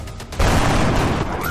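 A loud, booming gunshot in the video game XCOM: Enemy Unknown erupts and rolls on in a dense rumble of gunfire, close and forceful, with no voices.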